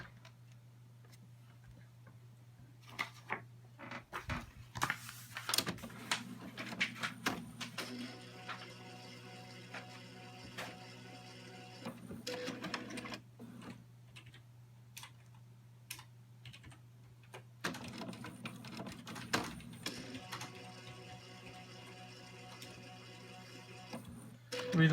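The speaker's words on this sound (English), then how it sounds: "it's the actual printer head, this little guy, which is broken." A Dell printer with a broken print head runs in long bursts of rapid mechanical clicking and rattling over a constant low electrical hum, with quiet pauses between passes.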